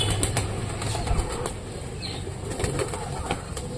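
Pet racer pigeons being fed flap their wings in quick, fluttering bursts close by. The soft wingbeats repeat throughout the short stretch, with faint cooing beneath.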